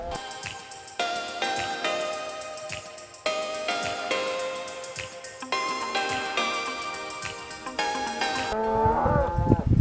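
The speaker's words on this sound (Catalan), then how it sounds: "Faré un plano aquí de les vaques aquestes que bramen." Cows moo in long, drawn-out calls at La Bastida de Sort, several overlapping lows one after another, fairly close and loud, with no talking.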